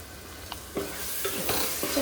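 Boiling oil sizzles in a pan before chicken pieces go in for a fried chicken curry, a close, steady hiss with a few soft scraping knocks.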